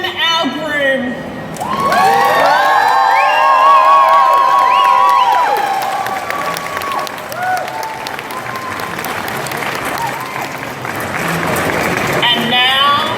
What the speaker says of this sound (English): A round of applause as we welcome our groom.